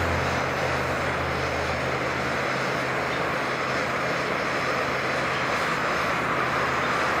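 An Optimus Nova camping stove burner fitted with a silent cap gives a steady, dense roar. The roar carries a low pulsing chug underneath and stays constant and close throughout, with no talk.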